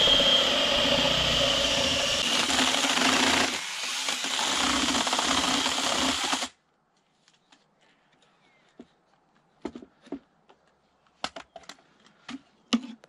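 A loud, steady drill grinds for about six seconds boring a 25 mm hole in wood, then stops, followed by quiet scattered taps and knocks.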